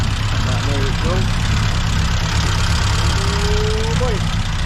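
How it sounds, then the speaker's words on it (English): Car engine with a new exhaust idling lumpily, a steady, loud, close rumble with slight unevenness and no revving. "he's running a bit lumpy."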